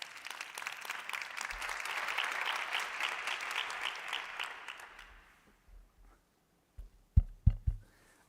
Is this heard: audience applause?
yes